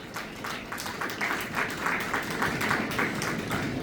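A church congregation claps loudly and steadily after a resurrection sermon, many hands blending into dense, sustained applause that fills the room for several seconds.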